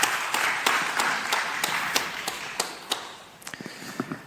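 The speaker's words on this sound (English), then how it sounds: "please clap now." Sparse audience clapping at a panel discussion on Europe's future, a handful of sharp, separate claps spaced through the room noise that thin out toward the end.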